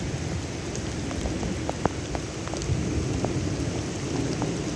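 Heavy thunderstorm rain pours steadily onto surfaces amid flooding, with a dense hiss of drops and a low rumble of thunder underneath, plus a brief sharper crack partway through.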